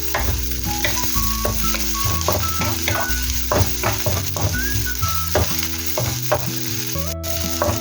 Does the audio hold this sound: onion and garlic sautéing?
yes